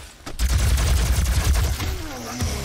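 Rapid, sustained automatic gunfire from a weapon in DOOM, loud and dense, with a string of shots blurring together over about two seconds.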